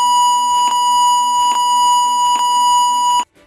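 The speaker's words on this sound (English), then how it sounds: "gas alarm, a continuous tone;" A gas alarm aboard an FPSO vessel blares as a continuous, loud and piercing electronic tone, holding unbroken for over three seconds before stopping abruptly.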